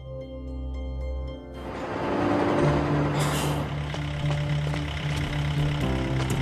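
Buses bringing workers at dawn to a huge high-speed train factory near Qingdao, China: heavy diesel engines rumble close by, an air brake hisses, and engine drone continues steadily.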